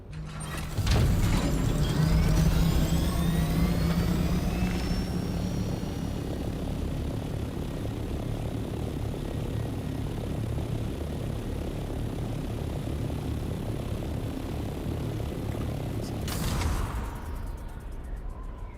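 An aircraft's engine drones loud and steady while it flies in the game Dune Awakening, with a rushing swell near the start and another brief whoosh late on.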